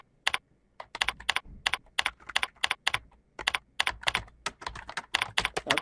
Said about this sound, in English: I can't type today either